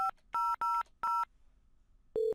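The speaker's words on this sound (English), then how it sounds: "So if I dial 5000" Telephone keypad dialing extension 5000 in a home-lab call centre setup: four short dual-tone beeps in quick succession, then a pause and a longer single tone, clean and close with no talking.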